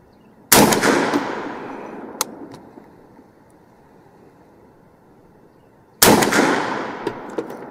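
Two loud rifle shots from a Bear Creek Arsenal .458 SOCOM at an outdoor range, each a sharp crack with a long decaying echo, spaced about five seconds apart with quiet between.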